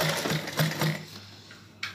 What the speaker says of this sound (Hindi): तो इस तरह से कपड़े को रख के मैं इनको सिल के दिखाती हूँ